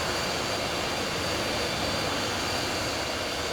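The SO-4050 Vautour jet's engines roar in Microsoft Flight Simulator, a loud, steady, unbroken broadband rush with no pauses or change in level throughout.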